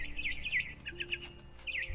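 A mother bird in the video game What Remains of Edith Finch chirps in quick, high, warbling bursts over a low ambient hum, fairly close and continuous.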